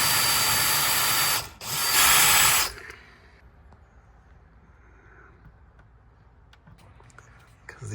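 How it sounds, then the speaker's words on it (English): A power drill bores a pilot hole into the aluminum frame of a Larson full-view storm door with retractable screen, running in two loud bursts broken by a short pause, then stopping to leave quiet handling noises. "because I'm drilling into aluminum, I'm gonna use a drill for the pilot hole."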